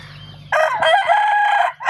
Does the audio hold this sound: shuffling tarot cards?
no